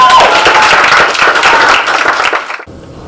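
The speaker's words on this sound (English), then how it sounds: "let's give a really big, loving round of applause to Tanya Baez." A large audience at a graduation dinner breaks into loud, sustained applause, dense clapping filling the room for over two seconds before fading quickly to quiet.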